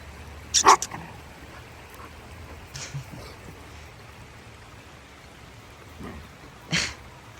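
A free-roaming dog barks on a nature walk through the outskirts of Mexico: a quick double bark near the start, a softer one midway and another toward the end, over quiet outdoor ambience.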